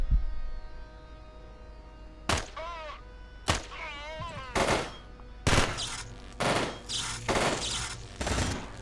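Turret gunfire in the sci-fi video game Quasimorph: about seven loud, sharp bursts of shots, some followed by warbling electronic whines, with short gaps between them over a low background hum.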